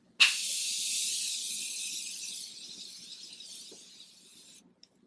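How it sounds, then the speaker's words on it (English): Morphe Continuous Setting Mist sprays in one long, close, fine hiss that starts sharply, slowly fades over about four seconds and then stops, with a small click afterward. "This right here is the Morphe Continuous Setting Mist."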